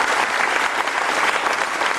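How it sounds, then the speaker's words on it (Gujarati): A stage audience applauds two honored guests at a Gujarati music event: loud, sustained clapping from a full crowd, dense and even from start to finish, with no voices standing out. "તો નૈનેશભાઈ અને ડૉક્ટર ભરતભાઈ માટે એક જોરદાર તાળી આપો."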